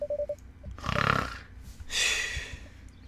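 Loud, close snoring from the video game Dream Daddy, two long rasping breaths separated by a short pause, with a brief high beep at the start.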